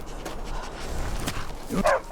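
Quick, breathy dog panting with a few small whines and yips from a war dog in the game Skyrim, close and moderately loud, lasting only a couple of seconds.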